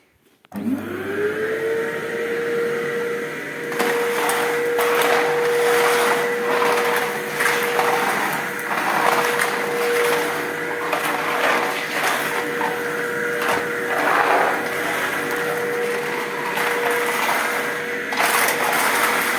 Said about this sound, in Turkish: Daha sonra da süpürgeye tutacağım.